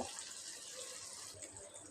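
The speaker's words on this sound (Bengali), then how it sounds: "আমি পানিটা দিয়ে দিলাম" Water poured into a cooking pot of rui fish being braised, a soft, steady splashing gush that stays faint throughout.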